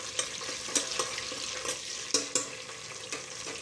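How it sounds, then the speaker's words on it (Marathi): Ginger-garlic paste frying in hot oil in a pressure cooker while a spoon scrapes and clinks repeatedly, sharp stirring taps over a steady frying hiss. "कुकरमध्ये मी तेल गरम करून घेतलेलं आहे आता इथे टाकत आहे एक छोटा चम्मच अदरक लसणाची"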